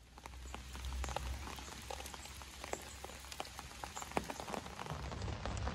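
Heavy rain pours down outdoors at a fishery lake, a dense steady patter of drops striking surfaces with scattered louder splats, continuous and fairly close.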